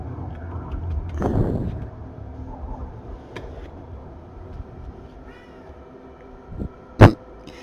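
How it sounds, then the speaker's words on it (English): A pet cat meows near the microphone indoors, one drawn-out call early on and a short sharper cry near the end, with quiet room noise between. "I bet you guys can hear my kitty meowing"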